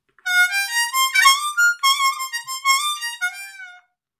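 A high F harmonica plays a bright, piercing melody of short single notes and brief chords, close and clear, alone for about three and a half seconds.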